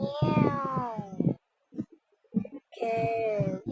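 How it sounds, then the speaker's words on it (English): A cat meows in the Roblox Brookhaven video game: two long, drawn-out wailing meows separated by a brief pause filled with small clicks and soft sounds. "Meow."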